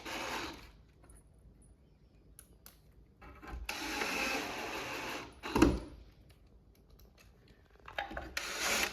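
Screws being driven into a wooden farmhouse shoe bench, with bursts of grinding, ratcheting driver noise, several seconds long, separated by quieter pauses and a sharp knock partway through.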